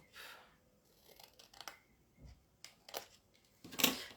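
Scissors cutting paper for a beginner's scrapbooking box, a few quiet close snips and rustles spaced irregularly, ending with a sharper, louder cut, no talking.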